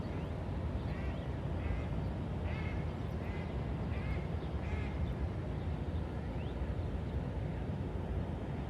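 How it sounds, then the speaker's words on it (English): Faint duck quacks come in short bursts over steady broadband noise by a river, with a few scattered calls in the first half and a quieter stretch after. "I think I'm scaring the ducks. I don't want to scare the ducks."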